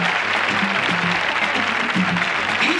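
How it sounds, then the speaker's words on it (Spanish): A crowd at a 1992 Spanish copla gala bursts into brisk, continuous applause. Faint musical tones sound underneath the clapping. "¡Dale un aplauso!"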